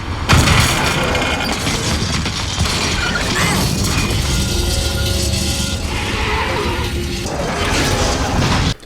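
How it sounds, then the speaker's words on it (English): A film crash effect of a pickup truck smashing and safety glass breaking opens with a heavy close impact, then dense crunching, grinding and scattering debris that stays loud for several seconds before cutting off abruptly. "The tractor trailer breaks the window, the glass, the safety glass falls in."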